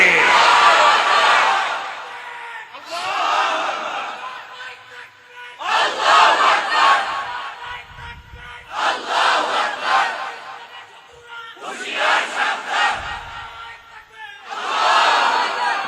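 Large crowd at a religious sermon shouting the takbir response in repeated loud unison calls, about six bursts separated by brief pauses, voices massed and echoing.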